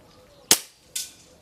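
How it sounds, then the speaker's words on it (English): A TX200 air rifle fitted with a Tony Leach 22 mm piston fires two shots in a quiet garden, each a sharp crisp crack about half a second apart, close and clear. "I'm shooting at my zeroing target 62 yards away up the garden"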